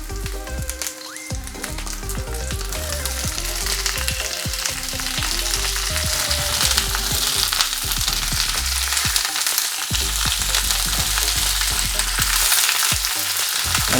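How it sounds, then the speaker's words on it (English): Steady, loud sizzling and crackling of chicken frying in hot oil in a pan, continuous throughout with a dense hiss and occasional pops. "And get the sizzle on."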